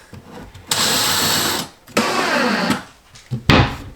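A power tool whirs close up in three bursts, two long and one short, with pauses between, driving screws for a cabinet handle into pre-drilled holes.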